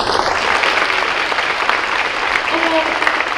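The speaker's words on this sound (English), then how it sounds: "We're going to give them one more round of applause." Sustained, dense applause fills a room at a high school spring pops concert, steady and fairly loud, with a few voices faintly audible within it.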